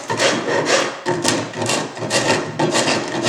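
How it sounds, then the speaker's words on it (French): Coarse rasp filing a Douglas fir wood tenon: steady, close, rhythmic scraping strokes, about four back-and-forth passes with brief pauses, each a loud gritty rasp. "fignoler avec une râpe à grosse piqûre"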